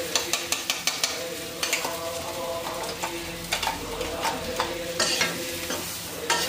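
Masala for bitter gourd bharit frying in a pan, loud close sizzle punctuated by repeated sharp spoon taps and scrapes as it is stirred.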